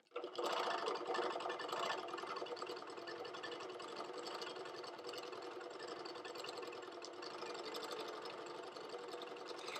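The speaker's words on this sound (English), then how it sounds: "So I'm going to sink the needle down, bring this up, take a couple stitches." A HandiQuilter Moxi longarm quilting machine stitches fabric along a seam, a fast steady mechanical whir and needle chatter up close, running continuously without any voices.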